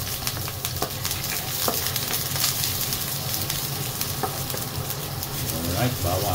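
Garlic sizzles and fries steadily in a hot pan for pork adobo with pineapple, a dense continuous crackle with occasional stirring scrapes, close and even throughout.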